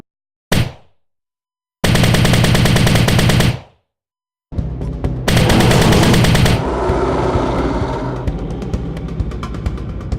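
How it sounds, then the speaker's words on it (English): A layered video-game machine gun effect combining rapid-fire gunshots with metallic mechanical clatter: several loud, dense bursts separated by brief silences, then a longer sustained volley that trails off. "All layers played together, the machine gun sounds like this."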